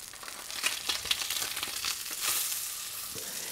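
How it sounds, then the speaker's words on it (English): A branzino fillet sizzles and crackles loudly in a hot pan as it is turned, the frying hiss swelling with each move, close up and alone. "I'm gonna turn the fish right now."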